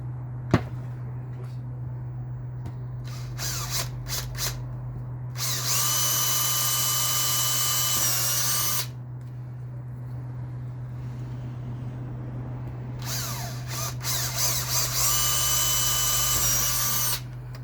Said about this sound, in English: then drill them out with a 6mm drill bit